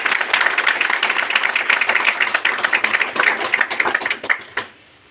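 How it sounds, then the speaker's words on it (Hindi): A crowd claps steadily for several seconds, a dense burst of applause that thins out and stops near the end. "अपने लिए ताली बजाइए"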